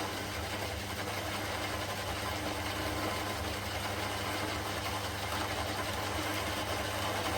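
A metal lathe turns steadily as a high-speed steel bit cuts the workpiece at a moderate feed rate, giving a continuous, fairly loud machine hum with a broad grinding hiss that stays even and unbroken throughout.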